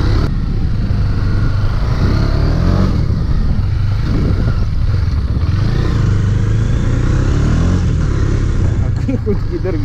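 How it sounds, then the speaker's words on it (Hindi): A motorcycle rides off-road through sand on a farm, its engine loud and close throughout, roaring and straining steadily with clattering rough-ground noise. "बाइक निकाल रहे हैं रेत में, यहाँ पे गाड़ी जाएगी ऑफ रोड।"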